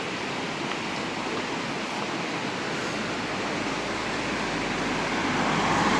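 Rushing water at a stop on a long bicycle ride, a dense, steady roar filling the whole stretch and swelling slightly toward the end, with no voices over it.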